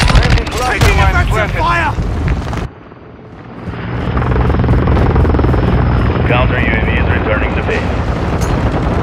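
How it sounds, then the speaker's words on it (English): Overwatch helicopter in Call of Duty Modern Warfare 2, a steady close rotor thrum that drops out briefly and returns, layered under constant battle noise and scattered gunfire, with voices talking over it. "Overwatch helo ready to deploy."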